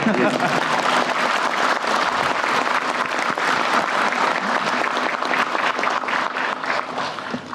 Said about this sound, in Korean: 박수도 한번 치워주세요